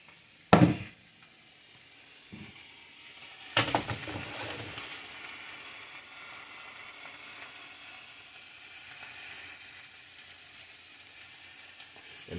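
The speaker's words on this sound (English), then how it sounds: "my steak is cooking pretty nicely the way it is" Steak fries in a pan on the stove with a faint continuous sizzle and hiss. A few loud clanks and knocks of cookware sound near the beginning and around the four-second mark.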